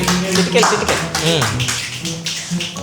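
Several quick finger snaps, crisp and close, scattered between people talking in an indoor room.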